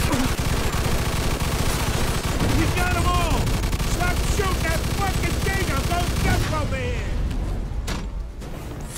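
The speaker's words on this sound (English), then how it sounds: "Stop shooting that fucking thing!" Rapid gunfire from a Mafia II shootout rattles continuously throughout, dense and loud, with excited voices talking over the shots.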